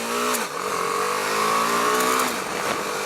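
A BMW G310R motorcycle engine held at steady high revs, a loud buzzing single-cylinder drone with a brief dip and recovery, close and continuous with no talking.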